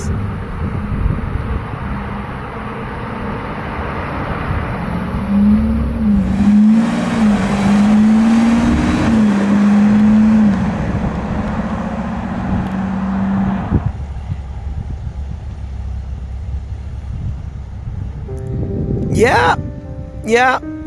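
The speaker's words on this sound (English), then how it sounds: "we have a yellow Urus coming out" A yellow Lamborghini Urus driving out, its engine rising in a loud rev and then receding as the car passes, with people talking over it and a few sharp squeaks near the end.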